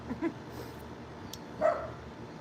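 A puppy gives a couple of short, faint yips and barks, one early and one stronger near the end, in a quiet space.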